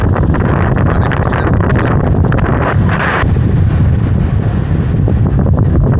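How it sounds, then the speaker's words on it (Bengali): Loud, steady sea wind on the coast roars and buffets the microphone without pause, a rough rushing noise that swells slightly partway through. "সমুদ্রের উত্তাল হাওয়া"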